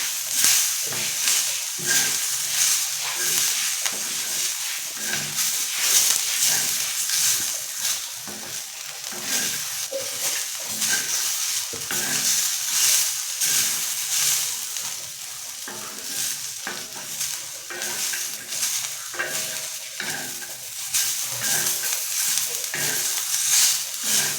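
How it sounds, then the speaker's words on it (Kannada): Onions fry lightly in a pan for sambar, a steady close hiss and sizzle broken by repeated scraping stirs in an uneven rhythm throughout. "ಈಗ ಹುರ್ಕೊತಾ ಇದ್ದೀನಲ್ಲ ಈರುಳ್ಳಿ ಅದ್ರ ಜೊತೆಗೇ ಹಾಕ್ಕೊಂಡು ಹುರ್ಕೊತೀನಿ"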